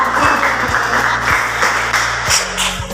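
A classroom of pupils clapping together in a loud, close, steady rhythmic pattern of repeated beats, with no talk over it.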